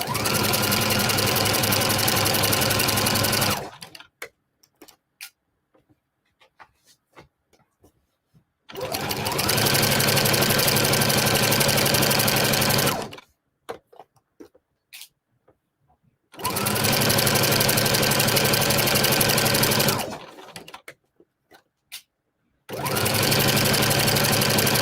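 A sewing machine fitted with a walking foot stitches a pillowcase seam in three long, loud, steady bursts, separated by quiet pauses with faint handling noises.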